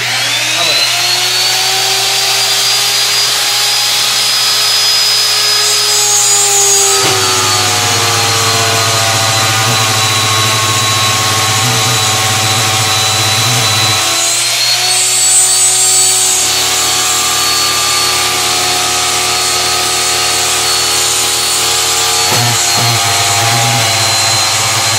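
A power drill with its bit cutting a channel in wood for drawer making whines steadily and loudly in long passes, the pitch dropping under load and recovering between cuts.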